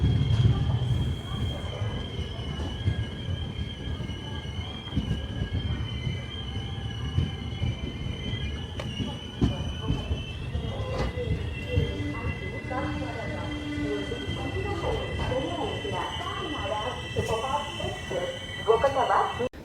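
The Cocanada SF Express (12775) rumbles into Akividu railway station with wheels squealing along the rails, a steady heavy clatter throughout and faint voices in the background.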